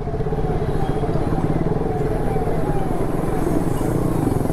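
A Bajaj Platina motorcycle rides past on a mountain road, its engine a loud, steady close drone with rattling clatter running throughout.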